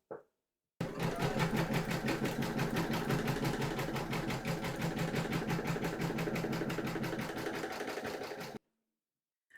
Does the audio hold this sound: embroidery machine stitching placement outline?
yes